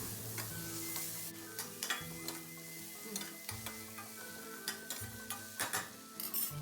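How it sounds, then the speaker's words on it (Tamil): Tomatoes and shallots sauté in a pan for crab masala. A soft, fairly quiet sizzle runs under repeated ticking and scraping as a spoon stirs against the pan. "இப்போது இதையும் நல்லா வதக்கி விடலாம்."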